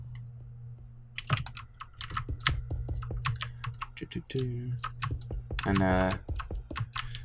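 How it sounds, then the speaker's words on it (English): Rapid clicking of a mechanical computer keyboard during a Minecraft building session, keys clattering in irregular bursts close to the mic, with a brief spoken word and some game sounds in the background. "decided to switch to my mechanical keyboard, so I apologize if that's annoying to some people"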